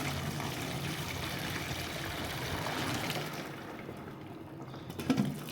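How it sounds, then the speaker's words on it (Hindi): Boiled pasta water pours through a metal strainer in a home kitchen, a steady rushing splash that runs continuously and eases slightly near the end, with a faint clink. "स्टीनर में हम इसे डाल के ना तो छान लेंगे।"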